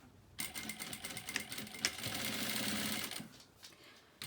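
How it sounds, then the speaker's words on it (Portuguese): A sewing machine stitches bias binding onto a fabric table runner, starting with a sudden whir and then running steadily and close for about three seconds before stopping, with no voices. "Vamos fazer a colocação do viés, vou deixar um pedaço sem costurar, tá? Vou costurar ele aberto nesse caso."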